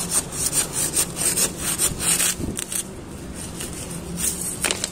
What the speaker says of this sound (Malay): Guna parang ni sebab apa senang? Sebab kita nak potong.